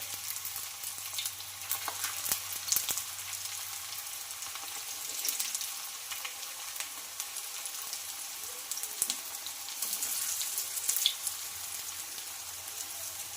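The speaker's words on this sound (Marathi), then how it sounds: "त्याच्यावर आपण ही टिक्की शालो फ्राय करून घेणार आहोत" Spinach tikki patties shallow fry in a hot pan, giving a soft, steady sizzle with light crackles and faint spattering that carries on throughout at a moderate distance, with no voices.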